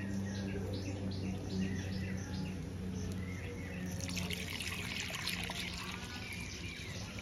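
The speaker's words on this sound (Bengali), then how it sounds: "এবার পরিমাণ মতো জল দেব।" Water poured into a pot of mashed lentil dal for a sour dal made with green mango, a steady trickling pour with faint bird calls and a low hum in the background.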